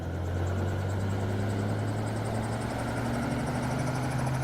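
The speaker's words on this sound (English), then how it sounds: "Helicopter, helicopter." A helicopter's steady engine and rotor drone holds loud and constant throughout, with a strong low hum and no voices.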